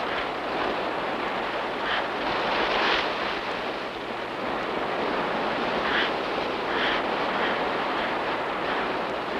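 Ocean surf rolls continuously onto a beach, a broad steady wash of waves with occasional brighter crashes, no voices.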